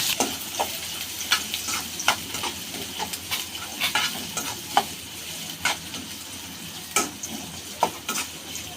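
Onion, green chili and garlic frying in oil, a close, continuous sizzle punctuated by frequent scraping stirs of a spoon against the pan, no voices.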